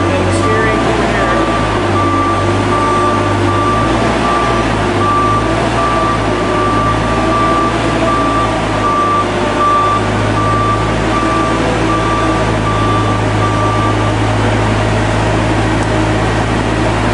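Versa Lift 40/60 machine running with a steady engine drone and a high, regularly repeating reversing beep close by, while someone talks throughout.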